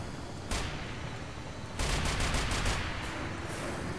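Grav Cycle in the Tribes Ascend game fires explosive projectiles, a loud sustained burst of rapid gunfire-like blasts that starts abruptly and steps up into a denser, heavier volley partway through.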